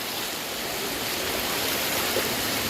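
Rainwater runs down from the hills during heavy rain, a steady, full rushing wash like a stream or small waterfall, close and constant with no talking.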